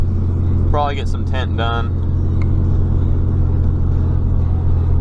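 A 6.7 Cummins diesel truck engine drones steadily at quarter throttle from inside the cab, a constant low rumble under a brief spoken remark.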